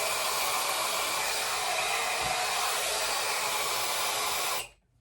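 A Shark hair dryer runs on fan setting 2 with low heat, giving a steady, loud broadband whoosh that holds evenly for several seconds and then cuts off abruptly near the end.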